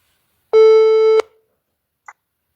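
A telephone call tone sounds once as a single steady, buzzy electronic note lasting under a second, loud and close. It is followed by silence and one brief faint blip.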